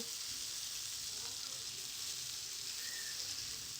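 Carrot, capsicum, tomato and green chili fry together in a pan for chicken chow mein, making a continuous even sizzle that stays close and steady throughout, with no talk over it.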